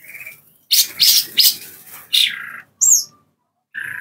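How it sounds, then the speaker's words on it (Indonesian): A green leafbird in an aviary lets out sharp chirps and squawky calls in irregular bursts, fairly close, with brief quiet gaps between them. "kalau cucak hijau ini sudah bunyi seperti itu, semua burung takut"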